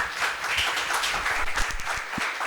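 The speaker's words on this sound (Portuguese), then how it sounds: "Queria que você desse uma salva de palmas para o Ministério de Música" A church congregation applauds the music ministry with steady, full clapping from many hands that fills the room and holds an even level throughout.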